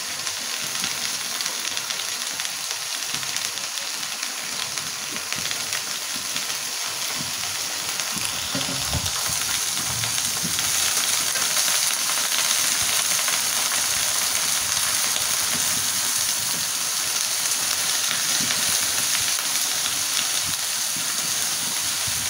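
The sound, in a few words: bottle gourd greens and potatoes frying in a pan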